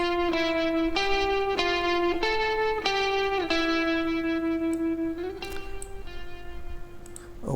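Sustained electric guitar chords with saturation, compression and reverb ring out with a wide reverb tail, each new strum swelling over the decay of the last, steady and prominent with no voices.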